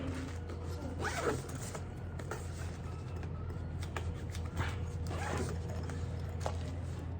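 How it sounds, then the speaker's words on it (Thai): A zipper on a Converse Vacancy messenger bag is pulled open and closed in a few long raspy strokes, close and clear over steady background noise. "อ่ะซิปเปิดปิดได้นะครับ"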